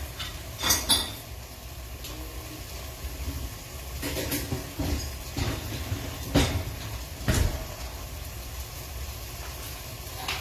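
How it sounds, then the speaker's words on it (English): Dirty dishes are loaded into a kitchen dishwasher, with scattered clinks and clatters of plates and cutlery over a steady background hum. "I'm just putting my dirty dishes away, putting them in the dishwasher."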